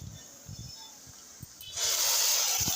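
Ginger garlic paste and tomato hitting hot oil in a pan, a sudden loud sizzle surging up partway through and holding steady after a quieter stretch of faint hiss.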